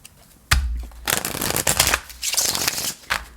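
A deck of tarot cards is shuffled up close in several quick riffling bursts of papery flutter and slapping, with short pauses between them and no talking.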